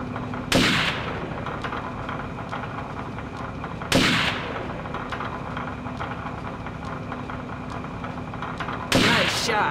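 Three loud, sharp gunshots from the Second Sight video game, fired several seconds apart on a target range, each a crisp crack over a steady background hum.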